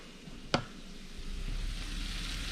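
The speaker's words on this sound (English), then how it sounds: "our wine is at a simmer" Wine simmering in a pan on the stove gives a soft, steady bubbling hiss that builds slightly over time, interrupted near the start by a single sharp clack.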